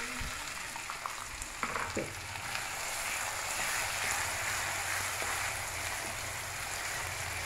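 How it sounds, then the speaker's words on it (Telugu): Onions frying in a pan for a Telugu pudina miriyala aloo fry, a steady broadband sizzle running close and continuous throughout with a few soft stirring knocks near the start. "ఉల్లిపాయ బాగా ఫ్రై చేసుకోవాలి"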